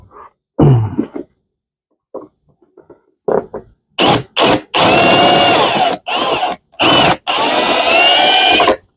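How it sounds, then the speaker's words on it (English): A power drill whines in several short bursts with pauses between them, drilling out rivets on a Lifetime Tamarack Angler kayak, loud and close, after a few quiet knocks and a throat-clearing sound. "that's why you see me rolling the drill around a little bit at different angles"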